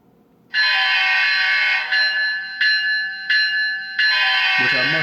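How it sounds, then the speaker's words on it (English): A model train locomotive's bright, clanging bell rings steadily with its sustained horn blast over it, pulsing in a few bursts, loud and close. "F2 is a horn and bell."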